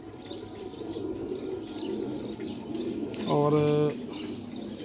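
A chapra pigeon, a high-flyer kept in Lahore, coos once briefly and close amid soft background sound while someone talks nearby.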